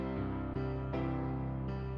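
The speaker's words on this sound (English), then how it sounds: "you know, like a ballad piano," Soft ballad-style piano plays sustained chords with a few gently struck notes, quiet and mellow, with no voices over it.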